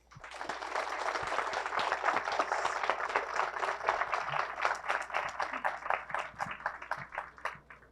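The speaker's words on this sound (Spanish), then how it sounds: "les pido le den un fuerte aplauso y una cálida bienvenida" At a conference marking 100 years of the Bank of Mexico, an audience welcomes the speaker with moderately faint applause, many claps building into a dense patter that thins out near the end.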